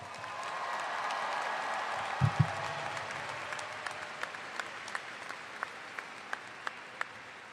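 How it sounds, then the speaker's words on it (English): An audience applauds a graduating high school class at a ceremony in Madison, a broad wash of clapping that thins to a few scattered, isolated claps, with a brief low thump partway through. "Please give them a round of applause."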